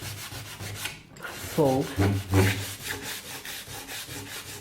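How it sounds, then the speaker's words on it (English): Ordinary sandpaper rubs over wood-filler patches on a piece of wood in short, close scratchy strokes, heard alongside a quiet voice. "I'm just going to sand the little areas"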